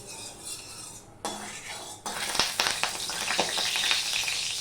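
A spoonful of hot ghee sizzles in a wok on low flame as it is stirred. Faint and quiet at first, the frying hiss swells louder after a couple of seconds, with close metal spoon clinks.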